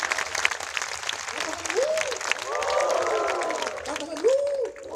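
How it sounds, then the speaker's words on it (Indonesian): A church congregation at a healing crusade breaks into sustained applause, a broad steady clatter of many hands, with a preacher's voice and scattered vocal calls rising above the crowd. "Berikan tepuk tangan buat Tuhan."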